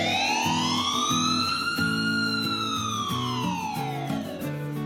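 A wailing ambulance siren in a village setting rises and falls in long sweeps, loud and continuous over a pulsing horn-like tone.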